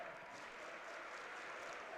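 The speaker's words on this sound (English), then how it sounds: "The crowd loving it here in Crisler Center." Crowd applause fills Crisler Center at a women's college basketball game, #6 Michigan against #5 Indiana, a steady, broad wash of clapping sustained throughout, fairly distant and even in level.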